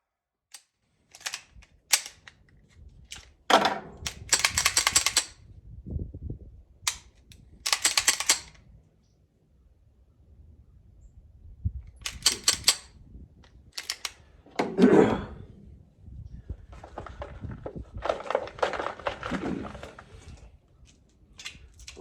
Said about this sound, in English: Love that I can shoot all three of these pistols and reload them with the same up-lula